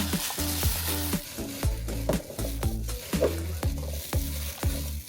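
Goguma, Korean sweet potatoes, sizzle on a grill with a steady, close hiss, partly masked by a loud rhythmic beat of background music.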